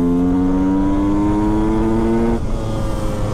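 A 125 SX supermoto motorcycle engine revs and accelerates close by, its rising harmonic whine climbing steadily for over two seconds before easing off, loud and alone with no talk.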